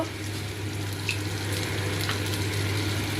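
Minced chicken and onion sauté in a pan with chili powder, a steady close sizzle with faint scraping stirs and a low constant hum underneath.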